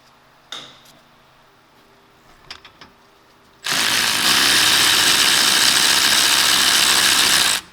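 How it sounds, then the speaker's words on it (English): Size 17 brake bracket bolts on a 2013 Honda Accord are worked loose with a few faint clicks and knocks, followed by a loud, sustained whirring power-tool buzz that runs to the end. "we're going to be loosening these two bolts that hold the bracket. So these are size 17. We're going to break them loose."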